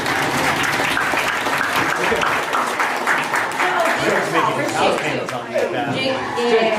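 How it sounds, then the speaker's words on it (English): A team meeting crowd applauds in dense, loud clapping, with chatter and a few chuckles mixed in throughout. "Give us that round of applause."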